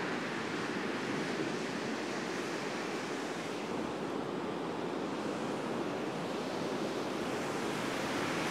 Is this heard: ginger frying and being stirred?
no